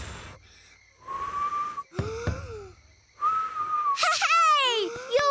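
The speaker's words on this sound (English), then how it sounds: "Hey! You're whistling!" Cartoon lion character whistling, with breathy, wavering whistle tones rising and bending between wheezy attempts and short vocal sounds, fairly close and clear.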